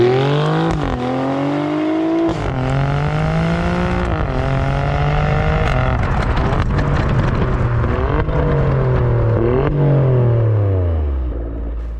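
A 2025 Alfa Romeo Stelvio Quadrifoglio drives close by, its engine loud and continuous, with revs rising and falling through repeated gear changes and ending in a deep fading rumble.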